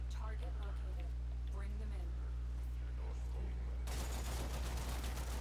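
Gunfire in the video game Warframe on PS4, a dense burst of rapid shots breaking out in the last second and a half after quieter game sounds and talking.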